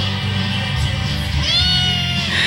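Over a steady bed of background noise, a small kitten lets out a thin, rising meow partway through, then the noise continues.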